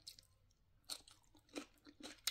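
Crunchy bites of fresh salad with red cabbage being chewed up close at a casual brunch, a few distinct crunching bursts over a quiet background with no talking.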